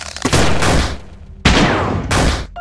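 Gunfire attack in the turn-based game LISA: The Painful RPG: two loud, close bursts of rapid shots, each about a second long, separated by a brief pause, with a short electronic blip at the end.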